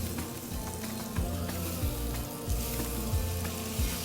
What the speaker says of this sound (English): Okay, my butter is browning.